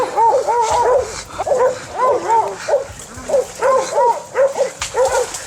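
Several hunting dogs bark and yip in rapid, overlapping bursts, fairly close and continuous, with excited whining pitches throughout, during a wild hog hunt in Florida.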